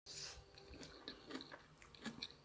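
Close, moist crunching as someone chews a mouthful of cooked Kenyan kale with onions and garlic, several bites in a steady rhythm with no talking.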